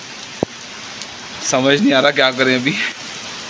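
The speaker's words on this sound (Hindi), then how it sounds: "बहुत तेज़ बारिश है, बहुत ख़तरनाक वाली बारिश चेक कर रहे हैं हम" Heavy rain pours down outdoors in a steady, even hiss, while someone speaks over the downpour.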